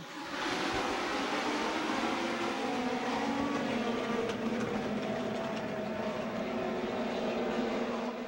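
Race cars roar around Kawartha Speedway in a steady, dense wash of engine noise that holds at an even level throughout, with no voices standing out.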